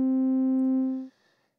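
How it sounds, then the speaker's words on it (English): A pure sine-wave tone from an OPx-4 synthesizer holds steady for about a second, then cuts off abruptly, leaving a faint short tail of residual noise. "So I've just got a sine wave sound here."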